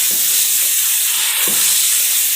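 Masala for an aloo baingan potato eggplant curry frying in a pan with a little water, giving a loud, continuous hissing sizzle throughout, with a couple of soft stirring scrapes.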